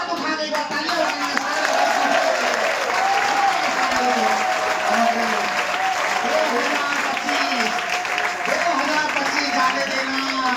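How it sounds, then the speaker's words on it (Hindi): A large crowd claps loudly and continuously at a children's day website launch event, dense and close, with voices and cheering mixed in throughout. "सारे लोग हाथ उठा के एक बार तालियां बजाएंगे"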